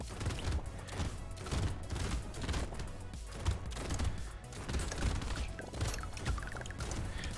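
Shotgun blasts from the roguelike arena shooter Brotato fire in a dense, continuous barrage of overlapping bursts, loud and steady throughout, mixed with other game effects.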